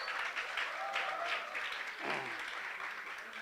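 Audience claps at a session on career opportunities and innovation, giving a steady, moderately faint wash of applause throughout, with a brief vocal sound partway through.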